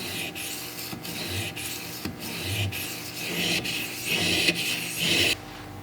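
A Benchmade 940 folding knife blade being sharpened on a stone, with steady repeated scraping strokes in an even rhythm, growing slightly louder toward the end, with no talk.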